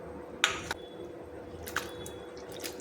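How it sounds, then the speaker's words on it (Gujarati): Bitter gourd pieces being washed in a bowl of water give a few brief, soft wet squishes and drips, with quiet pauses between them. "હવે આપણે એને બીજી વાર પણ ધોઈ લઈશું।"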